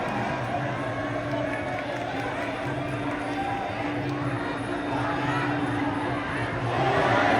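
Crowd noise at a Muay Thai bout between Phetchtechin Bangsaen Fight Club and Big Boss Ranong Muay Thai, a steady dense roar of cheering and shouting that holds level throughout and swells slightly at the end.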